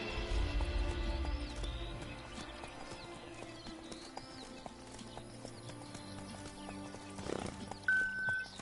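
Hooves clip-clop steadily as horses move in The Witcher 3: Wild Hunt's Blood and Wine DLC, the rhythmic footfalls carrying over game ambience and music, with a brief louder thump and tone near the end.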